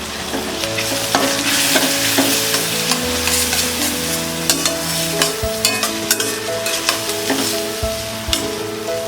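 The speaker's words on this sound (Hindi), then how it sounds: "इसे मीडियम फ्लेम में टमाटर और ऑनियन सॉफ्ट होने तक इसे हम कुक करेंगे।" Onion and tomato cooking with salt and garam masala in a pan over medium flame for palak khichdi, a loud steady sizzle broken by repeated clinks and scrapes of a spoon stirring against the pan, no voices.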